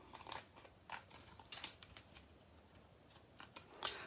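Scissors snip through a strip of thick mini dimensional foam tape for a gatefold shaker card, giving several short, crisp cuts spaced irregularly at close range and fairly quiet.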